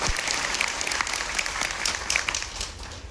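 A crowd at an outdoor Gujarati devotional bhajan gathering claps in a dense, steady burst of applause, loud and continuous from start to finish.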